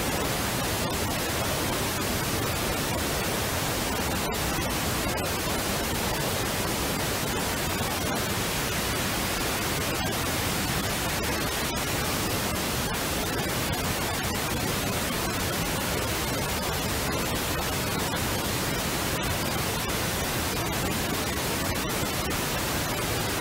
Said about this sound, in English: I'm going to switch on the pink noise and compare the mid and high.